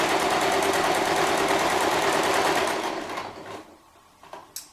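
A sewing machine stitches a patchwork seam in a fast, steady buzzing run that slows and stops, followed by a few light clicks of the presser foot and fabric handling.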